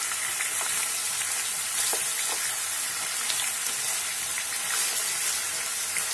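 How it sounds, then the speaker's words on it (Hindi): Chicken pieces frying in a pan on a high flame, a steady loud hiss and sizzle with occasional faint pops and stirring, continuous throughout with no talking. "चिकन ऐड करने के बाद इसे हाई फ्लेम पे 3 से 4 मिनट पकाएं"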